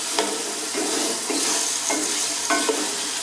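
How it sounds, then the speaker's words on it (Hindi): Okra stir-fries in masala in a hot pan, a continuous close sizzle broken by several distinct scraping strokes of a spatula as the pieces are turned, with no voices. "अभी हम 5 से 7 मिनट से चलाते रहेंगे"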